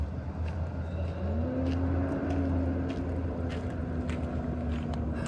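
Loud semi trucks roll past a camper parked near the road, a steady engine drone with a rising tonal whine as one passes, continuous and fairly close.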